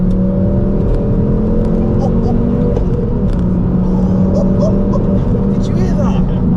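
Ford Focus ST engine revving hard and accelerating in third gear on a back road, a loud steady engine drone with rising tone throughout, heard from inside the car with speech over it.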